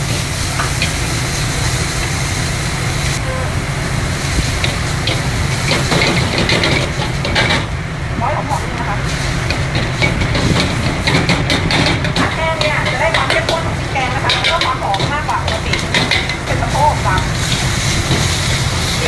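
Green and red Thai curry paste stir-fried in a wok for a dry green curry gives a steady, loud sizzle and roar that runs unbroken throughout, with a voice heard over it at times.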